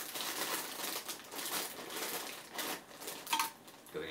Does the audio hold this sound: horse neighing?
no